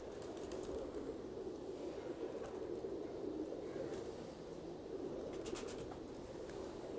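A male Kasuri Imamdin pigeon coos softly and continuously, a low, steady, murmuring call that is faint and somewhat distant.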